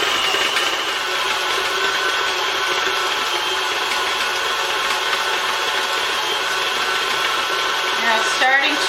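An electric mixer creams butter and sugar, giving a continuous whirring hum with a steady grinding texture that holds level from start to end, close and fairly loud.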